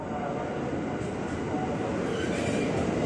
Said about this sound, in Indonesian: ada komuter lain tujuan stasiun Cikarang masuk jalur 8